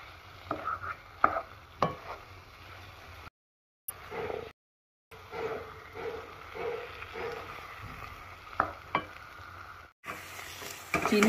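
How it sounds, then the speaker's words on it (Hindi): Grated carrot halwa cooking with sugar, stirred in a pan with soft scraping strokes and a low sizzle, broken by brief silent gaps and no talk. "हम अच्छे से मिक्स करेंगे जब तक ये पूरी तरह से चीनी मेल्ट नहीं हो जाती, मिल नहीं जाती, तब तक हम इसको पकाएंगे।"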